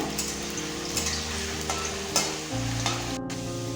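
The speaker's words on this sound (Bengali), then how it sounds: "এবার আলুগুলো আমরা ভেজে নেব" Potatoes frying in hot oil in a kadai, a steady close sizzle with faint clicks and stirring scrapes running throughout, no voices.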